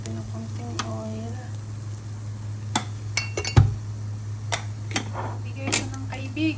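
Hot oil sizzles in a pan while cooking dilis and okra chicken curry, a steady frying hiss under a low hum, broken by scattered clinks of a utensil against the pan and a brief voice.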